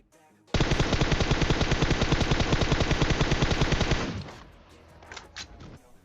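Sustained automatic M4 rifle fire in a mobile battle-royale shooter game, one loud unbroken burst of rapid shots lasting about three and a half seconds, then cutting off to quieter game ambience.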